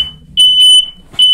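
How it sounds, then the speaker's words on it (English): A smoke alarm is set off by a burning candle indoors and gives loud, piercing, steady beeps, two long tones and then a third, with a faint voice under the first one. "Sounds like a fire alarm."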